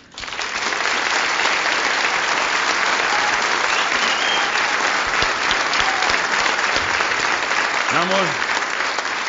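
A theater audience at a comedy show applauds loudly and continuously for several seconds, and a voice briefly speaks near the end.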